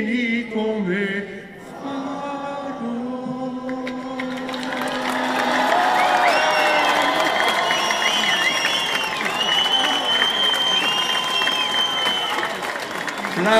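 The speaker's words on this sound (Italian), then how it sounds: "applaudiamo alla Concordia per Belluno Dolomiti." A crowd applauds at a torchlight procession for the province of Belluno, with music and voices giving way to sustained, loud clapping and some cheering that builds and holds steady near the listener.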